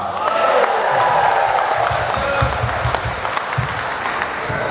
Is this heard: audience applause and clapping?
yes